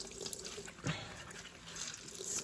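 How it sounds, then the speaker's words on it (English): Water is wrung by hand out of fabric freshly dyed with woad, producing a faint, steady wet trickle and dripping with a small splash partway through, soft and close. "Squeeze all the water out."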